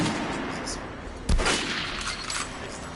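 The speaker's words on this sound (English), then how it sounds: "head over to my range and try out those guns" Guns firing at a shooting range in the video game Metro: Last Light, with one sharp loud shot standing out over a constant background hum and a voice heard softly.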